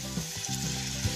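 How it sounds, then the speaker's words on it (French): Hot mussels sizzle loudly and steadily in a pan as a splash of white wine hits them, a brief close-up frying hiss with no voices. "On va juste mouiller avec un petit peu de vin blanc."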